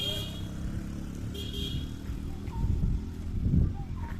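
A motorcycle climbs a hill road at Alikadam in Bandarban, its engine a steady, close, low rumble that swells louder toward the end of the ride.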